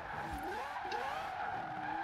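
A 2002 Mazda RX-7 Spirit R Type A drifts in Forza Horizon 4, its tires squealing in a long, wavering skid over a steady engine drone, loud and close with no talk.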